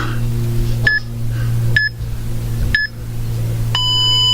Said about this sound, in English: It gives me a little 7-second countdown, so it gives me time to get set up.